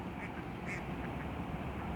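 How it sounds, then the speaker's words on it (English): Ducks quacking repeatedly along the edge of a canal, steady and moderately distant over a constant outdoor wash, with no talking. "The voices you can listen are just of the birds."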